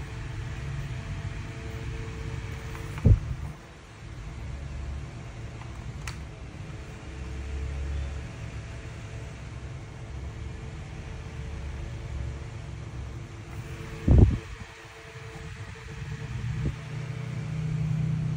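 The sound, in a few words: Mitsuyama MS-5544 desk fan running at speed level 1, rotating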